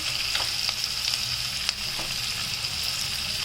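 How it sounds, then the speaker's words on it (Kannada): Onions frying in a pan for hotel-style aloo palya give a steady, close sizzle with a few faint taps of a spoon and no talk. "ಇದಾದಮೇಲೆ ಈರುಳ್ಳಿ ಹಾಕ್ಬಿಡ್ತೀನಿ"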